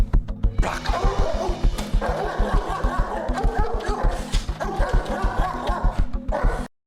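A dog barks hard and repeatedly during a guard-the-house exercise, a steady string of loud, close barks lasting the whole stretch with only brief gaps.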